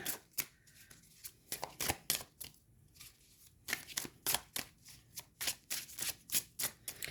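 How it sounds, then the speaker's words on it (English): Oracle cards are shuffled and drawn from a deck in quick, close, papery riffles and soft slaps that repeat in a steady rhythm, with no talking. "I'm going to go ahead and pull another card."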